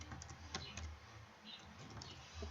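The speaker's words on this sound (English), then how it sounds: "since I just started typing" Typing on a computer keyboard while setting up a Cisco CME lab in GNS3: a quiet, irregular run of close key clicks and taps with short pauses, heard alone.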